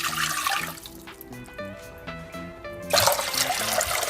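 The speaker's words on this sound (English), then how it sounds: "To make a herbal tea in this pan, I'm gonna add 4 cups of water" Water pours into a cooking pan for a homemade herbal tea cold remedy, a steady splashing stream near the microphone that quiets midway and then surges back louder.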